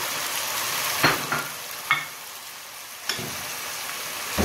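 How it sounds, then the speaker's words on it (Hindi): Tomatoes go into hot oil with browned garlic while cooking chickpeas. A steady, close sizzle is broken by a few sharp splashes and stirring bumps, with no voices. "अब लहसुन कुछ टाइम ये हो गया है ब्राउन, इसको मैंने कर लिया ऑयल में। अब मैं टमाटर डाल रही हूँ"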